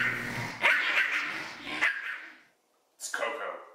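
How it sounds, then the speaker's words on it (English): A dog barks close by in a few sharp bursts, with a short silent gap before one last bark. "What does that stupid dog want now?"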